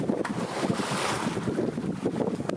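A sailboat under way at about four knots on the open sea, heading for an anchorage near La Paz, with steady wind buffeting the microphone over continuous rushing water and wave wash throughout.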